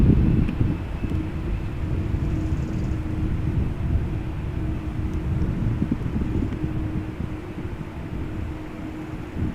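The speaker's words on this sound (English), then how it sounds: "Lufthansa 747" A Lufthansa Boeing 747 airliner passes overhead at Amsterdam Schiphol Airport, a steady loud low roar with a sustained engine hum, mixed with wind buffeting on the microphone and no talk.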